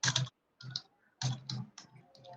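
Keys clicking on a computer keyboard during an R programming session, heard as quiet, uneven bursts of taps separated by short pauses, with no talking.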